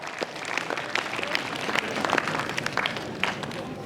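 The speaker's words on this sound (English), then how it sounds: "So please give him another round of applause for his dedication and commitment to you all." Applause from a school audience at a farewell speech at SMK Sri Nipah in Malaysia, a steady wash of scattered clapping that stays at an even level for the whole clip, with a few sharper claps standing out.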